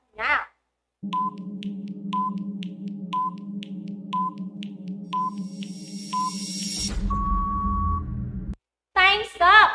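A quiz countdown timer beeps seven times in a steady one-per-second rhythm over a droning tone, then a longer buzzer-like tone ends it, with brief speech at the start and end.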